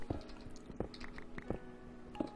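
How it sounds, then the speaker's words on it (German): Water drips nearby in the Minecraft video game, four distinct wet plops spaced evenly about every 0.7 seconds over a faint background hum, with no speech. "Das ging so, als wenn hier in der Nähe Wasser wäre."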